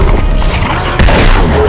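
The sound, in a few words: shotgun blast in video game Uncharted 2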